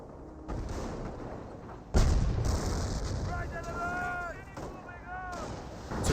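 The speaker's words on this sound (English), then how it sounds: "Officer artillery now raining on in." Artillery barrage in the World War II strategy game Company of Heroes: a continuous roll of booming explosions and rumbling shellfire, loud and dense throughout, with a voice talking over part of it.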